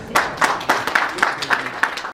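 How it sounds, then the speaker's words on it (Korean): Audience applause welcoming a speaker at a hydrogen fuel cell company presentation, a small group clapping in distinct, fairly rhythmic bursts, close and moderately loud. "박수로 모시겠습니다"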